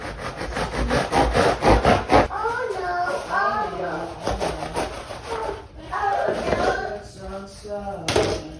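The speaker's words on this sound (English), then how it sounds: "A serrated knife. If you have an electric knife, those work amazing and so much easier." A serrated knife saws through food in a home kitchen, with quick, rhythmic back-and-forth strokes up close, then a voice talking with scraping underneath.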